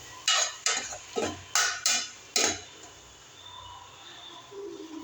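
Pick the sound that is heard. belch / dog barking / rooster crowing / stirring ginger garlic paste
stirring ginger garlic paste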